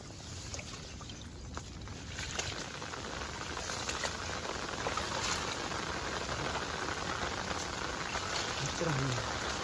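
Rain falling steadily outdoors during a monsoon crab-catching outing, a dense, even hiss that stays close and constant, with faint movement underneath.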